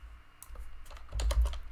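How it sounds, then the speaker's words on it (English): Computer keyboard typing while entering a formula in Tableau software: a quick run of close key clicks, sparse at first and then a denser, louder burst toward the end, with no voices. "I want to start by typing an include statement."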